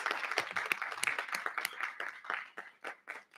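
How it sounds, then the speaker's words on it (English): Applause at a school board of education meeting, a round of clapping from the audience with distinct sharp claps that thin out and fade toward the end. "Let's give them one more huge round of applause,"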